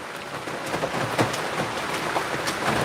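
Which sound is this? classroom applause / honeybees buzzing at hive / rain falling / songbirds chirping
rain falling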